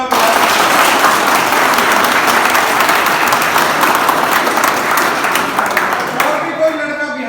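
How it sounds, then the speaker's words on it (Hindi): Loud, sustained applause from an audience at a Trupati Group of Institute gathering, dense clapping filling the whole stretch before tapering slightly near the end. "जोरदार ताली बजाओ।"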